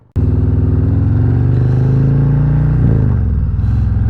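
A motorcycle engine starts abruptly and idles loudly up close with a throbbing, uneven rumble, briefly blipping near the end.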